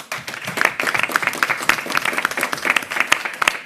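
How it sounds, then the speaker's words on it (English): An audience at a mayoral press conference gives a short burst of applause, many hands clapping close together in a dense, lively patter for under four seconds. "I just want to give them a round of applause"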